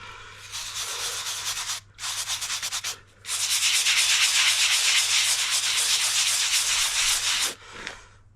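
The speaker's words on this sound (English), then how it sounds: "Okay, give it a scrub." Stiff brush scrubbing a filthy driveway, loud continuous rasping strokes close by with two short breaks near the start, then a long sustained scrub before it tapers off.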